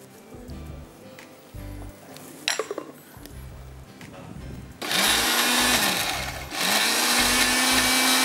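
Kitchen blender pulsing chimichurri sauce in loud bursts, one short burst partway through and then two long sustained runs near the end, with quieter clinks and kitchen handling sounds in between.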